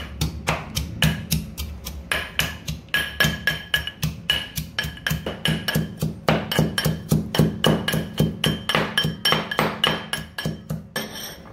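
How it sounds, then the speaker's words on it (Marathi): Ginger, garlic and green chili are pounded with a pestle in a mortar, a steady run of loud, close, rhythmic thuds with a slight metallic clink, continuing for the whole stretch. "आता याच्यामध्ये टाकले बघा अद्रक लसूण मिरची. मी तर चेचून घेते."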